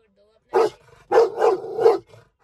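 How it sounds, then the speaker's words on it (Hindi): A Rottweiler barks at people in short, loud bursts, one bark followed by a quick run of three, with a person talking in the background. "ये इनको भौंक रहा है"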